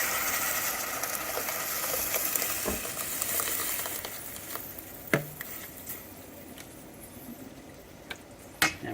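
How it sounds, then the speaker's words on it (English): Food frying in a pot of hot oil while preparing Peruvian tallarines verdes, a steady broad sizzle that slowly eases, with a few sharp clinks and knocks of stirring scattered through it. "we are now going to fry this into the pot"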